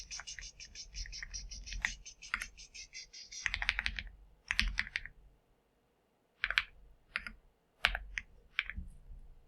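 Quiet keystrokes as a password is typed on a computer keyboard, rapid bursts of clicking with short pauses between runs, close and clear.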